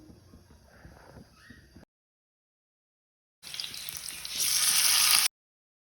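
Onions hit about three tablespoons of hot oil in a pan, first a faint crackle, then a pause, then a louder, swelling close sizzle.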